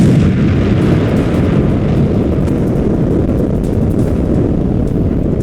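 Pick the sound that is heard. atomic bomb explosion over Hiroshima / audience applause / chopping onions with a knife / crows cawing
atomic bomb explosion over Hiroshima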